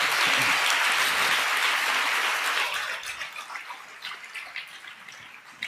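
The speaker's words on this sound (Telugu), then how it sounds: "ఇది చప్పట్లు కొట్టాల్సిన సంగతే." A crowd of listeners breaks into loud, dense applause that holds steady, then thins out into scattered, fading claps.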